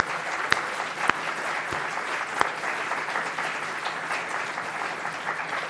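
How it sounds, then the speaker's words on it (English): Audience applause following group presentations in a class session, a steady wash of clapping with a few sharper louder claps standing out, sustained throughout. "I'd like everybody to give everybody a round of applause for a great job."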